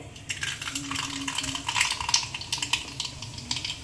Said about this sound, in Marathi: मोहरी आपली छान तडतडते